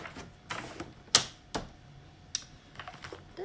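Paper is creased into folds for an album structure, giving a handful of sharp, close taps and crisp snaps spaced irregularly with quiet gaps between, no talking.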